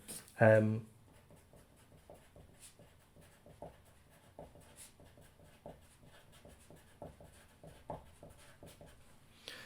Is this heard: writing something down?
yes